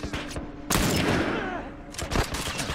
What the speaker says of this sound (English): I'm shooting out the tires.